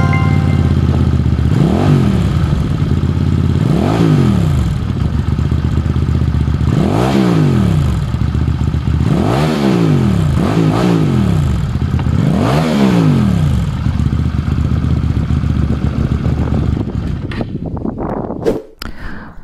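A QJ Motor SRV 400 motorcycle engine runs loud and close, with about five sharp revs rising and falling over a steady idle before it cuts off near the end.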